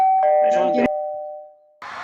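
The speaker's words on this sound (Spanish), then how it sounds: "¡Ding dong! Abre la puerta. Hay gente en la puerta." A doorbell chimes a sustained ding-dong tone, loud and close, with people talking excitedly over it.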